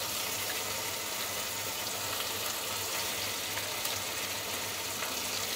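Ginger paste fries in a pan for a Bengali cabbage dish, giving a steady, dense sizzle that holds at an even level throughout with no talking.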